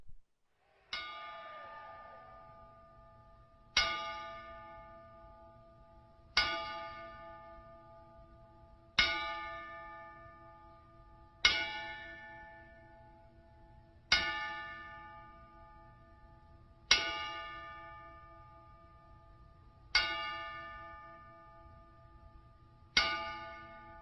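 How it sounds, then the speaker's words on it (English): A single bell is struck ten times at slow, even intervals as a traditional ten-bell salute, each clang ringing out and fading before the next. "we will begin the show this week with a traditional 10-bell salute."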